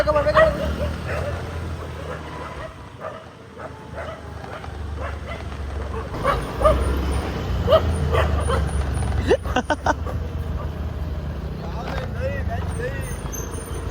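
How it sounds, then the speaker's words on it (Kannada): Dogs bark and yip repeatedly nearby, with people talking over them and traffic rumbling in the background. "ಫುಲ್ ಅಟ್ಯಾಕ್ ಮಾಡ್ತಾ ಇದ್ದಾವೆ ನಾಯಿಗಳು."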